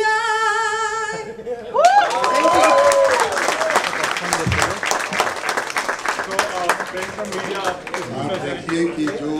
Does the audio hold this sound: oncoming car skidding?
no